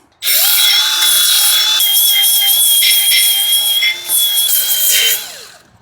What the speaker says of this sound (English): I'm just gonna get in there with this awesome little Milwaukee. I don't know what you call these, diamond file or whatever, but little belt sander things are awesome